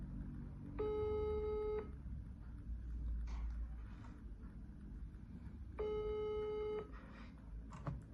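A telephone ringback tone sounds twice while a call is redialed, each tone about a second long with a pause of several seconds between, clear over a low background hum.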